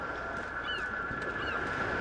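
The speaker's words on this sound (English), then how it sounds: "It's a fucking emu, you daft cunt." An emu calls in a video game, giving two short honking cries over a steady tonal background hum, faint and fairly distant.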